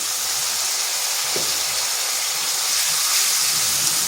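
Spices frying in a pan after a little water is added, making a steady, loud, close hiss that holds evenly throughout with no voices.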